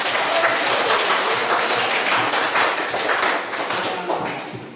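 A classroom of students clapping hands together, a dense, steady burst of applause-like claps close by that fades slightly toward the end, with faint voices mixed underneath.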